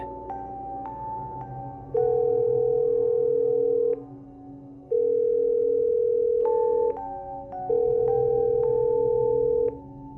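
Repeating telephone tones from a public payphone: short electronic beeps followed by long, steady ringback tones at regular intervals, clear and loud with no voices.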